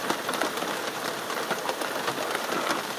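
Steady rain falls outdoors in a misty forest, a dense continuous hiss of drops with scattered sharper taps, moderately loud and unbroken, with no voices.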